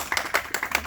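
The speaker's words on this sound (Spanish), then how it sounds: "Se aplauden para Dios, ¿va?" A church congregation claps together in quick, rhythmic bursts of hand claps, moderately loud, with no voices over it.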